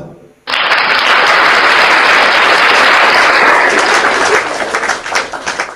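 Loud, dense audience applause erupts suddenly after a brief quiet moment, sustained at full strength for several seconds before starting to thin and scatter toward the end, with a religious talk show crowd clapping for God.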